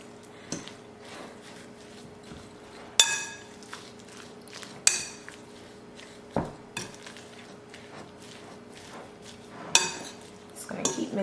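Turkey meatball mixture being mixed with breadcrumbs in a bowl, with scattered clinks and knocks of utensils against the bowl over soft squelching and stirring, some sharp clanks standing out, close and fairly quiet, with no talking.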